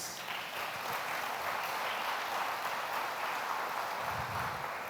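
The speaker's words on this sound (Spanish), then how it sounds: "Vamos a darle un aplauso al Rey de Reyes" A church congregation claps in a steady, even wash of applause that carries on throughout at moderate volume.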